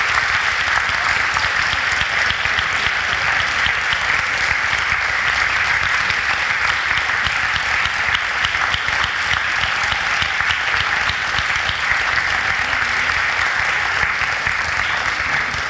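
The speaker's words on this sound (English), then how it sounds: "Why don't we give them a loud, warm applause" A church congregation gives loud, warm applause, a steady dense clapping that holds evenly throughout without pause.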